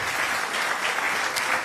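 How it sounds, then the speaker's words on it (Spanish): Strong applause from a church congregation during a Spanish-language sermon, a steady dense clatter of many hands filling the whole moment with no voices over it. "Dele un fuerte aplauso si lo cree así."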